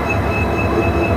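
A long passenger train at Chittagong railway station rumbles loudly and steadily nearby, a heavy low drone of rolling wagons with a thin high squeal of wheels running over it.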